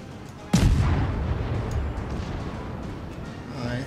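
A naval cannon salvo fires from a Wickes destroyer in the World of Warships video game. It opens with one sharp, loud boom, and a long rumbling tail fades slowly into the background battle noise.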